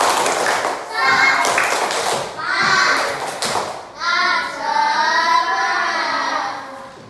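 Children in a classroom clap in short rhythmic bursts of a patterned class clap, alternating with the group chanting and calling out together, loud and close.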